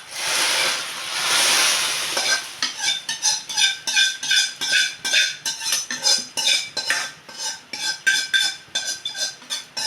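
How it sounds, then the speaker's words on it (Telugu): Hot tempering poured into a pot of sambar, a loud hissing sizzle at first, then a rapid series of metal spoon clinks and scrapes against the pot as it is stirred in, close and without talk. "ఇదిగోండి పోపు అయితే వేసుకుంటున్నాను"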